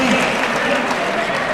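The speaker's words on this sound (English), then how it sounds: "Give them a round of applause." Audience applause fills a conference hall at the official opening of a UCLG international training event, a steady, dense wash of clapping from a large crowd that holds at an even level throughout.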